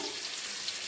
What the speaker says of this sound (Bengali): আলুগুলোকে এবার ভেজে নিই।